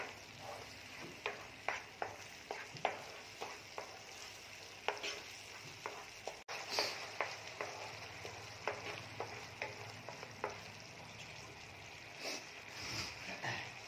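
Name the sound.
onions frying in pan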